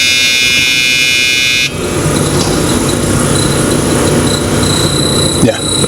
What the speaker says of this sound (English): when you turn the key, it'll whine for a second and then it'll stop